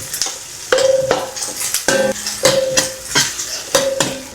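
Onion and ginger sautéing in a pan, with repeated stirring scrapes and clinks of a utensil against the metal over a steady sizzle, close and fairly loud.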